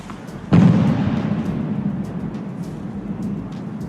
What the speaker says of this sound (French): le bruit d'un avion de chasse qui a franchi le mur du son